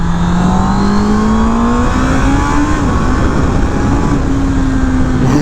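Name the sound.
Honda inline four-cylinder motorcycle engine screaming on track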